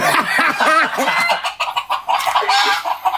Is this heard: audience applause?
no